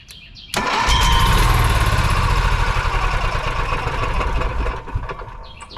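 An Onan Cummins 4000W onboard RV generator cranks and catches, then settles into a loud, steady engine roar that runs on evenly for several seconds before easing slightly near the end.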